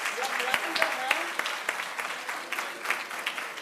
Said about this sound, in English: they are clapping their hands